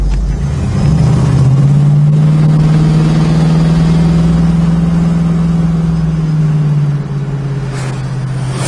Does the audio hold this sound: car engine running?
yes